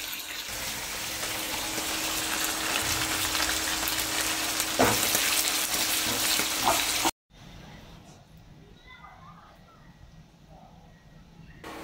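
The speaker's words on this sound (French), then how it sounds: "Et puis il y a de la viande qui est en train de cuire." Meat frying in butter with onion and garlic in a home kitchen, a loud, dense sizzle that suddenly cuts to a much quieter, faint background partway through.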